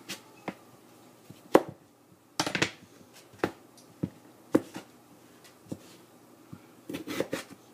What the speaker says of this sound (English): Now I'm cutting the second potato.